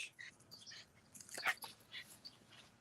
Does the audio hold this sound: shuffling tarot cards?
no